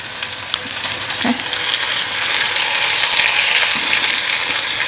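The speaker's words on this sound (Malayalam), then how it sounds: "ഇഞ്ചി വെളുത്തുള്ളി സബോള എല്ലാം ഇട്ട് കൊടുക്കും ഓക്കെ ഇനി നന്നായിട്ടൊന്ന് ഇളക്കി കൊടുക്കുക" Ginger, garlic and onion frying together in hot oil for a fenugreek seed curry, a loud steady sizzle filling the whole stretch, with a few soft stirring scrapes along the way.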